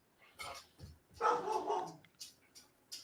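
A pet dog barks in a house, several faint, scattered yaps and one longer bark in the background, at a low level with no talking over them.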